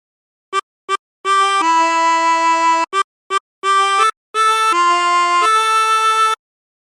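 A chromatic harmonica plays a phrase of the hymn How Great Thou Art, with two short breathy notes, then longer held chords and a few more quick notes. The tone is clean, close and alone.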